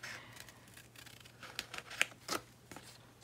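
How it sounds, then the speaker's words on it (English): Large scissors snip through paper close up while cutting out bird and butterfly pieces for a journal, several sharp crisp cuts spaced irregularly, with quieter rustling between them. "And I had these huge scissors in my hand,"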